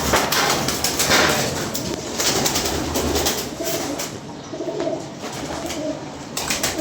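Pigeons kept in a loft coo and flutter continuously at close range, a dense layer of soft bird calls with faint knocks, no talk.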